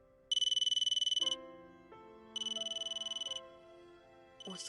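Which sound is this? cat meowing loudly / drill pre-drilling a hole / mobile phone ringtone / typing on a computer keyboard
mobile phone ringtone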